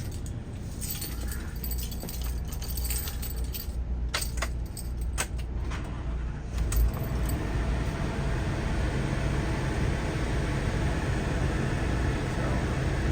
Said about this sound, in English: let me flip that engine on so that you can see it there